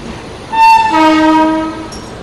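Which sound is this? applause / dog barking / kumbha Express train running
kumbha Express train running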